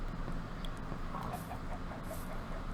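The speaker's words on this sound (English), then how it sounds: "Oh, a couple more chickens came out." Chickens cluck in a Minecraft survival world on a farm hill, a few soft clucks over a steady game background hum, with no talking.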